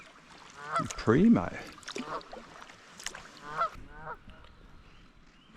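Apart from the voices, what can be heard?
bird calling near water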